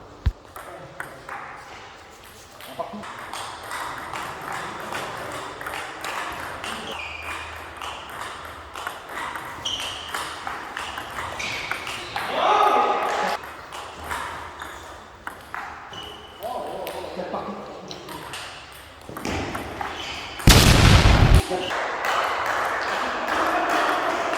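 A table tennis rally against a long-pimpled backhand, sharp repeated pings of the celluloid ball on bats and table in an irregular quick rhythm, with voices talking over the play and a brief loud burst near the end.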